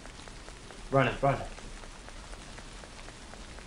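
Rain falls in the Tsugunohi horror game as a soft, steady patter, with a voice briefly speaking a word over it near the start.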